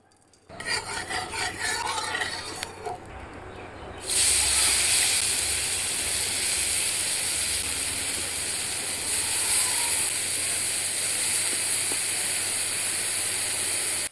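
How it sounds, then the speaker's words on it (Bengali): Grated carrots hit hot ghee in a wok while making gajar ka halwa, opening with a softer rasp before a loud, steady broadband sizzle takes over and holds for about ten seconds, close and without talk. "এখন কড়াইতে 2 চামচ ঘি দিয়ে আগে থেকে গ্রেট করে রাখা গাজরগুলো একে একে দিয়ে দেব।"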